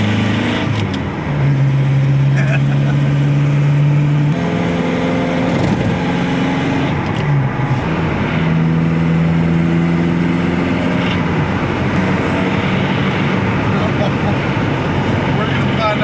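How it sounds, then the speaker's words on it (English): A car engine with spark knock runs steadily throughout, its droning tone shifting pitch a few times, with a faint background murmur and no clear pauses. "Do you hear that engine carrying on up there?"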